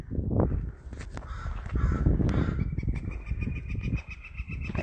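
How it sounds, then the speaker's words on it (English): Crows caw repeatedly in an upland forest, harsh calls rising over a steady outdoor background with other birdsong, fairly close and loud, no one speaking. "And interesting, the crow is having a discussion."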